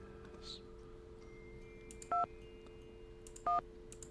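Telephone keypad tones from the Nancy Drew game White Wolf of Icicle Creek: three short, loud dialing beeps spaced about a second apart over a steady low background hum.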